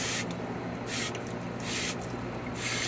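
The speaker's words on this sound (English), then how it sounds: "We got some water burping out of there." A sprinkler pump check valve burps water in repeated hissing, sputtering spurts, three or four close bursts with a gurgling wet rush between them, heard up close.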